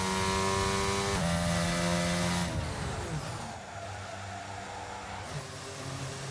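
A race car in a racing video game at full throttle on cold tires and a wet track, engine tone climbing sharply through gear changes with a loud, continuous whine and squealing tires.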